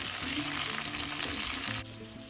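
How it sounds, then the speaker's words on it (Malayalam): Chopped onion sautéing in hot oil with ginger, garlic, chilli and curry leaves, giving a loud, steady, close sizzle with stirring that cuts to a quieter hiss near the end. "അതിലേക്ക് നമുക്ക് അരിഞ്ഞു വെച്ചിരിക്കുന്ന സവാള ചേർക്കാം. ഉള്ളി ചേർത്ത് ഒന്ന് വഴറ്റാം."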